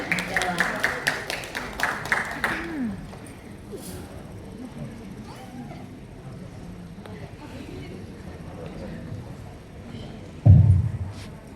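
An audience at an indoor gathering claps in a short burst of quick, uneven applause at the start, then fades into room noise with a low thump near the end.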